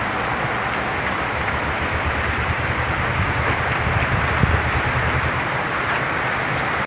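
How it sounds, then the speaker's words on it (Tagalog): Steady rain falls at Fugu in Agasian, Ilagan City, Isabela, a dense, even hiss of drops on surfaces that holds throughout with no speech. "hindi tayo makapag-vlog na maayos ta umuulan"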